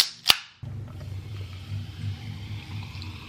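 A Dr Pepper can opens with a sharp pop and fizzing hiss, then the soda pours into a glass as a steady bubbling, gurgling fill, close to the microphone with no voices.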